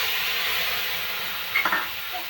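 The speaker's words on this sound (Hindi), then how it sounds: "ये देखो हमने मसाला डाल दो" Spice masala tipped into a hot pan after tomatoes, giving a steady close sizzling hiss with a brief burst of crackle midway as the spices hit the oil.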